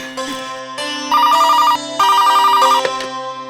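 A telephone rings indoors with a loud, melodic electronic ringtone playing in repeated bursts, clear and close, with no talking over it.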